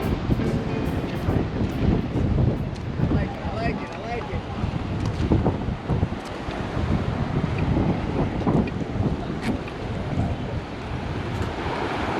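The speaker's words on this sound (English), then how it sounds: "Way breezy out today." Breezy Caribbean wind on Grand Turk island buffeting the microphone near the sea, a continuous rough rumble mixed with waves, lasting throughout.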